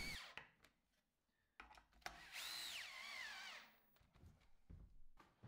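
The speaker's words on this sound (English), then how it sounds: "I can drill larger holes and get some big heavy-duty plugs in." A power drill whines and bores into a wall for heavy-duty plugs while a kitchen wall unit is hung, with a rising and falling motor pitch in one long burst among shorter close bursts.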